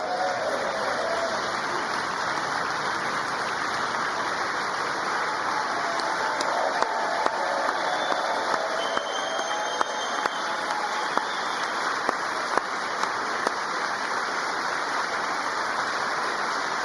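Sustained applause in Congress during a Trump speech, a dense, steady wash of clapping that continues unbroken throughout, with a few louder individual claps standing out.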